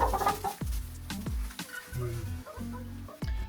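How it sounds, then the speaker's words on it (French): Hens clucking close by at a chicken coop under construction: a run of short, throaty clucks and squawks, with a few sharp knocks breaking in between. "Je vous en ai pas encore parlé, mais du coup j'ai pris des poules"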